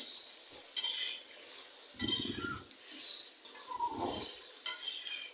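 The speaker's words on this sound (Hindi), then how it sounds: "अब हम इसमें ऐड करेंगे लहसुन अदरक का पेस्ट 1 टेबलस्पून भर के।" Garlic-ginger paste, about a tablespoon, goes into a pot with whole black cardamom while cooking chicken liver fry, then gets stirred: a spoon scrapes and clinks against the pan in short bursts over a light sizzle.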